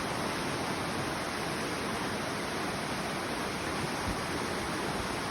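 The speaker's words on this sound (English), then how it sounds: "Listen to the water." Steady, continuous rush of flowing creek water, broadband and unbroken throughout, fairly close with no other sounds.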